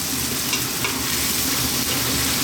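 Bell peppers sizzle in a frying pan for a spicy brown stew chicken, a steady close crackling fry with faint stirring scrapes throughout and no talk.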